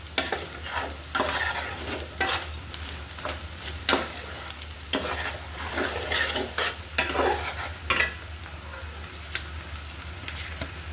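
Garlic pickle with a full bowl of sugar being mixed by hand, with repeated scraping and stirring strokes against the bowl, close and fairly quiet, over a steady low hum and with no talk.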